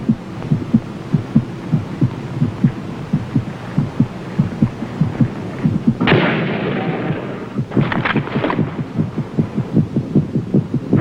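A human heartbeat thumps in a steady, regular rhythm, loud and close. For a few seconds in the middle it sits under a burst of noisy rushing sound.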